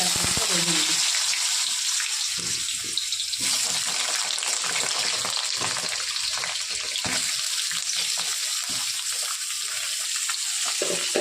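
A bay leaf dropped into hot oil for a fish curry sets off a loud, continuous, hissing sizzle that fills the whole stretch without letting up.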